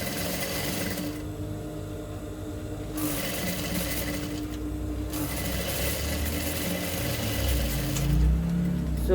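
A sewing machine stitches a seam on a corset gown with a turtle neck, running in a steady loud hum in several bursts separated by brief pauses, with no talking.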